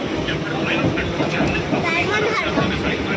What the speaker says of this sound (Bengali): কোন ট্রেন এটা বলো তো